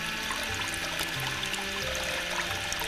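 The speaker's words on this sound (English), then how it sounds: "right now it's in the spin mode where it's like just spinning its little dial around, creating waves in the water" Water sloshing and churning in the agitator of an off-grid washing machine during its spin mode, a continuous splashy wash of moving water with small gurgles, fairly loud and steady, no voices.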